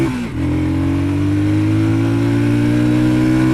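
A Sothassi Classic 400 motorcycle engine pulls hard uphill, holding a loud, close, steady drone with a strong rising hum after a brief dip at the start.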